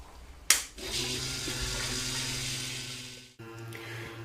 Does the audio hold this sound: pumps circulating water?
yes